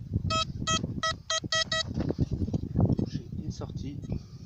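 A metal detector sounds a short series of six quick electronic beeps at the start of a search for finds, followed by a person speaking in French over outdoor rustling.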